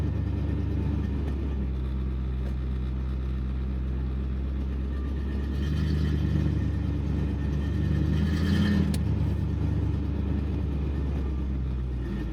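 A 1958 Cadillac driving on the road with suspect brakes, a steady low engine rumble from inside the car with a brief swell partway through.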